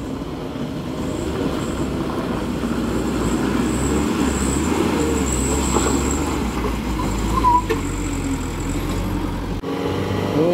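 A full-diesel truck hauling about 12 tons of iron cargo being towed up the steep Batu Jomba incline, its engine a steady, loud, continuous low rumble throughout with road noise, no talk.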